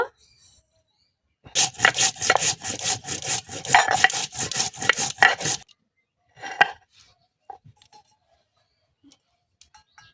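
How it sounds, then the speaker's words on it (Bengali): Whole cumin seeds ground on a flat stone with a hand stone give a rhythmic scraping, rubbing run of strokes, close and dry, followed by a few scattered taps and quieter scrapes. "গোটা জিরে বেটে নেব"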